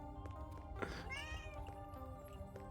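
One drawn-out cat meow from the video game Echo Generation 2 rises and falls over a steady electronic hum and sustained background tones, fairly quiet overall.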